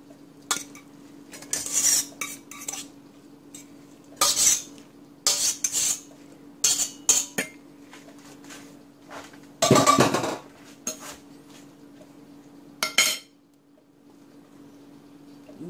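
Drained spinach from a garden is tipped onto a plate, with sharp clattering clinks of dishes and utensils in short bursts separated by near-silent gaps, close by and without speech.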